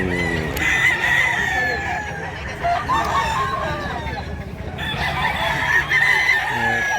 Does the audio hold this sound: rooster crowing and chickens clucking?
yes